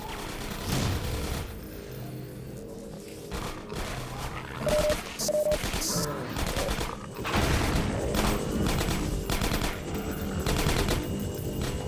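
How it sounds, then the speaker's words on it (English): Gunfire in Half-Life 2, including sniper rifle shots, arrives as loud, dense bursts of shots and impacts layered over a busy combat soundscape, with no talking. "Oh, that's a sniper."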